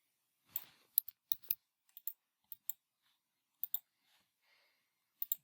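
A computer mouse clicks in sharp, isolated bursts, mostly single or paired, spaced irregularly over several seconds against near silence.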